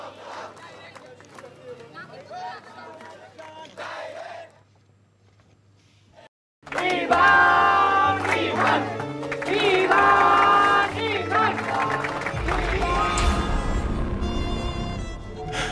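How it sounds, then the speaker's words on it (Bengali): Students marching at Rajshahi College chant loudly in unison at a protest demanding the abolition of quotas. The close, energetic crowd noise bursts in after a stretch of calm narrated talk. "কোটা বাতিলের দাবিতে রাজশাহী কলেজে মিছিল করেছে শিক্ষার্থীরা"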